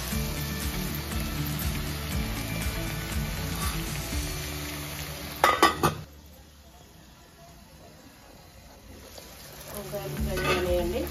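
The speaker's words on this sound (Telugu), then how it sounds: "వంకాయలు ఫ్రై అనేయండి." Brinjal pieces frying in a pan for a curry, a dense sizzle under a voice for the first half, a brief clatter, then a quieter lull before the frying hiss builds again.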